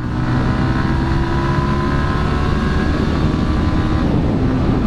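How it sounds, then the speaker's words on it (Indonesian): Steady Yamaha XSR155 motorcycle engine drone at cruising speed, with a low rumble and constant wind noise, no voices. "Wah, motornya diem banget, enak banget ini motor."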